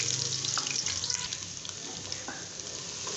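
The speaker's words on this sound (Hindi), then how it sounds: "प्याज और ज़ीरा ऐड कर दूंगी मैं" Onion and cumin frying in hot mustard oil in a pan, giving a steady, close, bright sizzle that runs the whole time, with a few faint scrapes and clicks in it.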